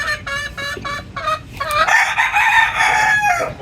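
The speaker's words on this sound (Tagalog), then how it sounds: "Yung manok dito, relax na relax." Chickens cluck in a quick rhythmic series up close, followed by a loud, drawn-out crow.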